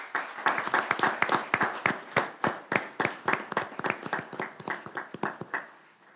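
Applause at a city council meeting for a newly introduced paramedic captain: a modest group of people clapping in distinct, fairly sparse individual claps, moderately loud, tapering off at the end.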